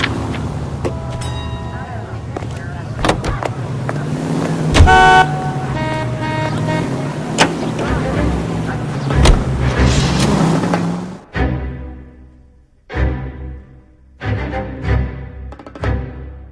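A car drives through 1940s Los Angeles in L.A. Noire, its engine humming steadily with horn toots and traffic around, then the sound breaks into choppy bursts near the end.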